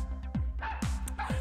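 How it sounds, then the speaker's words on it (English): Dogs bark in the video game Barbie Groom and Glam Pups, three short, quiet yips spaced about half a second apart over a steady low game hum, with no talking. "dog barking."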